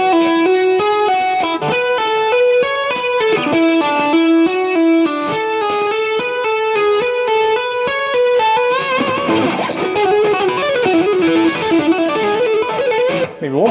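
Electric guitar playing a tapping pattern slowly, with rapid distorted legato notes in a steady repeating cycle ending in a wavering string bend, loud and close with no voices.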